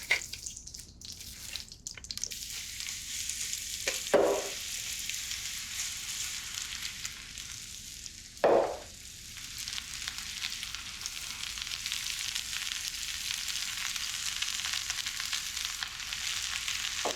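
Onions frying in butter give off a steady, fairly quiet sizzle that runs throughout, broken by two sharp clatters of a pan or utensil, with no talking.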